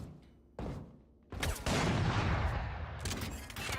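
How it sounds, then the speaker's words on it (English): Video game gunfire, a short burst followed by a dense sustained volley of rapid shots, loud and close with a few sharp cracks at the end. "भाई अच्छी तो साउंड है इसकी. बट ये है कौन सी गन?"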